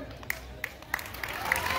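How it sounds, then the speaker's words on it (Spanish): Audience applause at a huapango dance contest in Aquismón, crowd clapping that swells from scattered claps into fuller cheering applause, with a few crisp nearby claps standing out. "el aplauso que se oiga otra vez"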